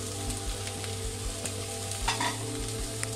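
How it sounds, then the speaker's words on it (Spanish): Onion for chop suey fries in a hot pan while being stirred, a steady close sizzle with periodic scraping strokes of a utensil across the pan surface. "Movemos un poco y agregamos la cebolla."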